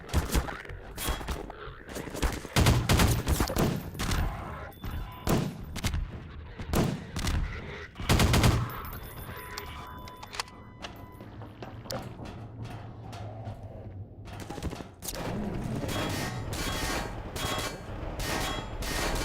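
Heavy video-game gunfire fires at the player on a custom map, with dense, loud volleys and scattered shots over a creepy ambient rumble that swells toward the end.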